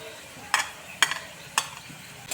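Bitter gourd and mixed vegetables for shukto sizzle in a pan as a spatula scrapes and stirs them in three distinct, evenly spaced strokes over a steady low frying hiss.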